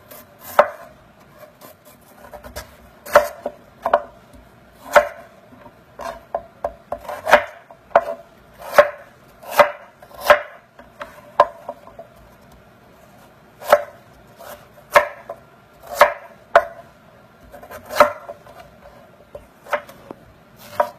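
A knife chops taro (gabi) on a cutting board in crisp, close, irregular strokes, some quick runs and some single cuts, with short pauses between them and no talking.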